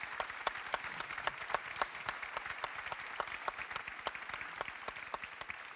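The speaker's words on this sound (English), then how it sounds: "So everyone, please give them a round of applause." Steady applause from an audience, a crowd clapping continuously at moderate distance with no voices.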